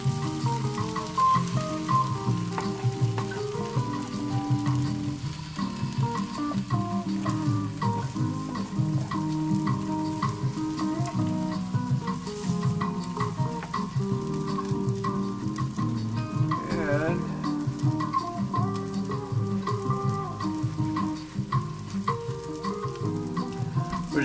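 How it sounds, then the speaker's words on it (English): Nongshim instant noodles with Lao Gan Ma spicy chilli crisp sizzle steadily in a hot frying pan, a constant crackling hiss with occasional stirring scrapes and a low hum underneath. "And we're just gonna let this kind of sizzle a little bit."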